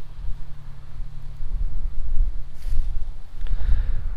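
Wind gusts buffet the microphone on an open paraglider launch field, a low, rumbling roar that rises and falls, close and fairly loud, with a brief rustle partway through.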